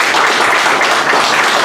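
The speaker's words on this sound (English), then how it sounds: "So how about a round of applause?" A crowd at a veterans event in a tavern applauds, giving a dense, steady wash of clapping that stays loud and even from start to finish.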